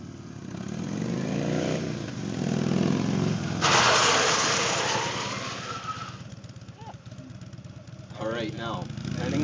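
A Harley-Davidson motorcycle brakes hard on a road strewn with dirt, mud and gravel, its engine revving up, surging, then dropping away as it slows, followed by idling and a voice speaking at the end.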